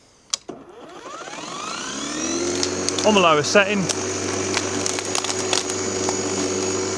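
An ETOOLAB M13 battery-powered lawnmower on a small lawn whirs up to speed after a click and then holds a steady electric motor hum with a brief pitch sweep, while a person talks over it.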